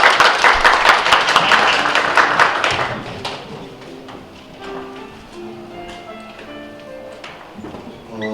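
Short burst of audience applause at an indoor policy forum on disaster relief, clapping strongest for about three seconds before fading into a quiet room with a faint tone and scattered taps.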